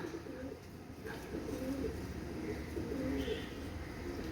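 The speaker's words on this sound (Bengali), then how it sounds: "এটা হচ্ছে নীলদুম্বা কবুতর" A Nil Dumba pigeon coos softly nearby in repeated low, rolling calls over a faint background hum.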